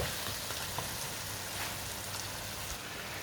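Aloo gobhi frying and sizzling steadily in a pan as it is stirred, a dense continuous crackle with no voices.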